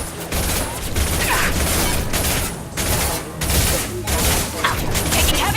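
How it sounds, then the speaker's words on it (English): Heavy gunfire from the video game Mass Effect 2 comes in loud, dense bursts with booming impacts, broken by short pauses over several seconds. "Taking heavy fire!"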